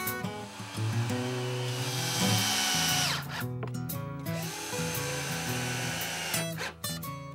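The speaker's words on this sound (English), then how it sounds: "Set the bottom in place and secure it with screws." Cordless power drill driving screws into the bottom of a kitchen cabinet pull-out shelf, loud close whirring bursts that rise and fall in pitch, with brief pauses between screws.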